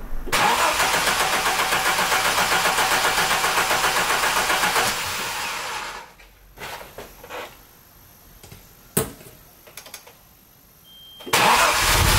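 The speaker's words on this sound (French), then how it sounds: "je le fais déjà tourner au démarreur, bobine débranchée" An Audi 200 Quattro Turbo engine is cranked by the starter with the ignition coil disconnected for about five seconds, a steady whirring churn, followed by quieter clunks and handling noises, then another burst of cranking.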